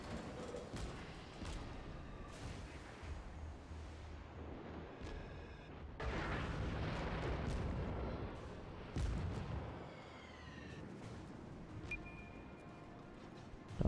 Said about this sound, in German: Oh nein, auf mich wird geschossen.